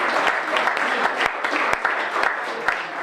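Scout audience applauding a rover at a Conegliano scout event, a dense steady patter of many hands with sharper individual claps poking through, sustained throughout at moderate level.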